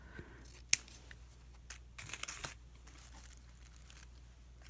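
Scissors snipping through a piece of lace for a paper journal: a few sharp, quiet snips and crisp cuts scattered over several seconds, with faint rustling between them.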